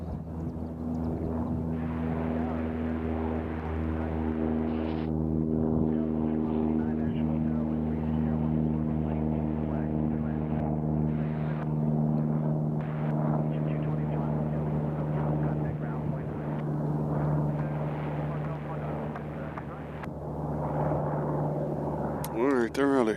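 Heavy aircraft at Nashville International Airport, a steady loud engine drone with strong low harmonic tones holding throughout, close by, with a voice talking over it at times.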